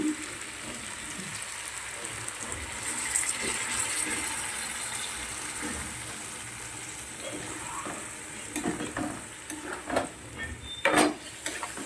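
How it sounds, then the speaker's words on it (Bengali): A pan of cooking potatoes, cauliflower and vegetables for dal has a little water poured in, giving a sustained hiss and sizzle followed by bursts of stirring and clattering of the pan near the end. "দেখো এবার আমি এখানে সামান্য একটু জল দিয়ে দেবো।"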